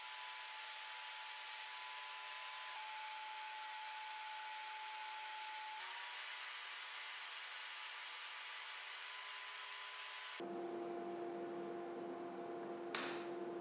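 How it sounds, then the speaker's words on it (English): A table saw runs with a steady high whine while cutting the central gap in a crosscut sled, with a tonal hum throughout and a sharp shift in pitch near the end as the cut finishes. "Now I can cut the central gap in this sled. I'll use the table saw along with its fence."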